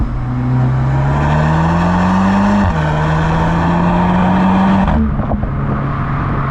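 A 2023 Audi S3's turbocharged engine pulls hard under acceleration, its rising drone climbing steadily, dipping at a gear change around the midpoint, then climbing again before another shift near the end, loud and close without talk.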